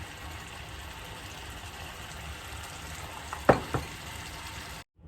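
Steady, fairly quiet sizzling of birria broth in a pan, with a couple of sharp clinks partway through before it cuts off.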